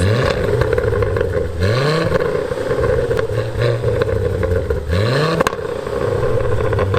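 A Ford Focus ST engine revs hard and loud, with rising and falling sweeps of engine note and a few sharp pops and bangs standing out near the end of each rev.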